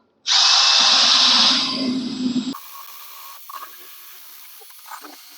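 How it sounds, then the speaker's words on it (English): Wire brush spun by a cordless drill scrubbing paint off a rusty truck fender: a loud, steady high whir right at the start that eases off after about two seconds, then quieter scraping and handling noises. "So I got a wire brush on a drill."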